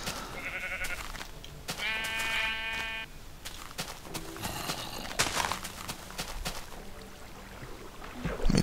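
Minecraft sheep bleat in a few short, nasal cries amid blocky footstep clatter, near and moderately loud with no talking.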